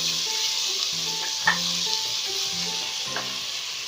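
Onions sizzle and fry in a pressure cooker for chicken biryani, a steady close hiss with a few soft clinks of stirring and no voices.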